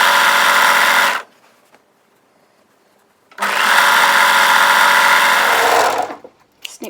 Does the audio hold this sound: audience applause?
no